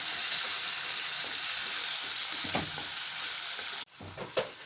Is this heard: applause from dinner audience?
no